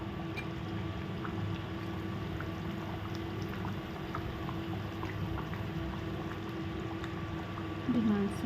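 Mutton simmers in a clay pot (matti handi), bubbling and steaming in a steady, continuous close-up boil that stays even from start to finish.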